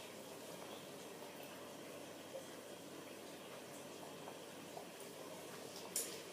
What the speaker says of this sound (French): on va commencer par mettre dans un récipient, peser notre huile végétale de ricin